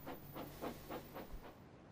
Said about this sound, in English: The Big City Engine just laughed at Gordon and puffed away.